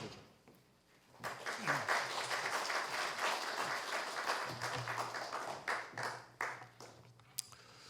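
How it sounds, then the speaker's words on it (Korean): A church congregation bursts into applause during a worship service, many hands clapping together for several seconds before the sound thins out into a few scattered claps. "박수"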